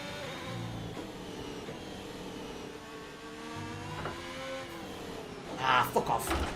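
F1 car from the F1 2021 video game driving on its rims, a steady grinding engine drone with gear-like tonal shifts, moderately quiet, ending with a few louder scraping bursts.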